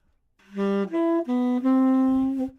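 A sustained instrument, likely a saxophone, plays four notes in succession, each held and stepping through a seventh chord, rising to a long final tone.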